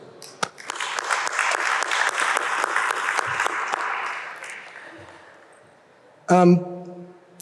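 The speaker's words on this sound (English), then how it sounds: "a big applause to them" An awards-ceremony audience gives a round of applause for the jury panel, steady dense clapping for about four seconds that tapers off, followed by a brief voice.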